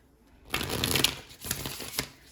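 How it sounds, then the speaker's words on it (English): A deck of tarot cards shuffled close up in a few quick riffling bursts, crisp papery flutters with short pauses between. "y'all know I like to get a good shuffle"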